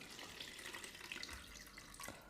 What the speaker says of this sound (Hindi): अब यहाँ पर हम इसका पानी रिमूव कर देंगे